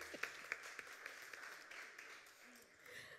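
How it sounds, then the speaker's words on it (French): Faint applause for a young singer named Amalia after a worship song about Jesus, with scattered sharper claps over a soft, steady patter of clapping. "Vous pouvez l'applaudir s'il vous plaît."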